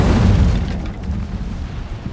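A fiery Incendio spell bursts in Hogwarts Legacy, a loud low whoosh and boom at the start that rolls into a rumbling roar and fades into a steady crackling burn.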